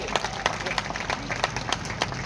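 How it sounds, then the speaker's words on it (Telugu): An audience at a gathering claps loudly in a steady, dense patter of hand claps, fairly close, with a faint murmur of voices underneath. "అయితే గట్టిగా చప్పట్లు"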